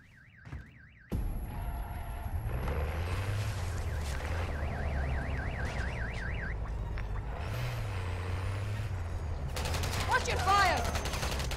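Gunfire in MW3 Zombies rattles on steadily and loudly under a warbling, siren-like alarm tone, with a denser burst of shots near the end.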